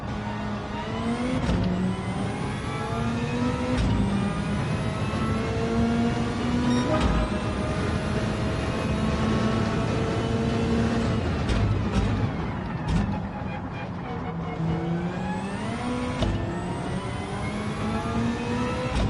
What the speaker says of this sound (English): You can hear the straight cut gears in the transmission.